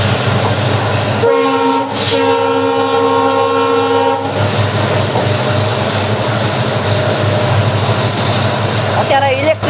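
WDG4D diesel locomotive hauling the Rajkot-Porbandar Express sounds a loud, sustained two-part horn blast over the steady rumble and rattle of the moving train, close by, with the running noise continuing after the horn stops.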